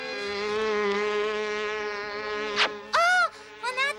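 A cartoon fly buzzes in a Smurfs episode, a loud close synthetic drone that holds steady before breaking into short sharp bursts and warbling swoops near the end.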